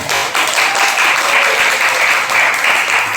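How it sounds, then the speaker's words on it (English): Enthusiastic audience applause at an English-speaking practice event welcoming two American guests, a steady dense wash of clapping held at full strength from start to finish with no talk over it. "Applause for them."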